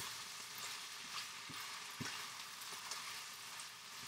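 Chinese long beans and chicken sizzle steadily in a hot pan, with a few soft scraping stirs and light knocks rising above the continuous frying hiss.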